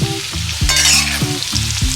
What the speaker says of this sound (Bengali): আলু আর মূলোটা দেখো ফ্রাই করে নেব।